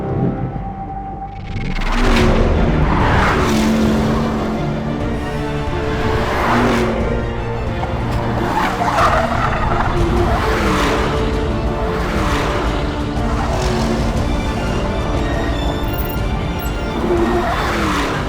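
A standard production Porsche Panamera races at high speed on a racetrack with engine roaring through repeated gear changes and surges, steady loud and close, with occasional tire noise.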